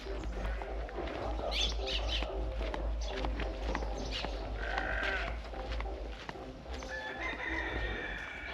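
Sheep and goats bleat repeatedly on a farm, several overlapping calls near and far over a steady low hum, with faint fowl sounds mixed in and no clear talk.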